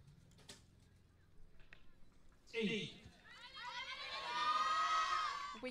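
Youth team supporters at a mixed-team final erupt in shrill cheering and shouting partway through, after quieter murmur and a few ticks; the excited voices swell and hold near the end.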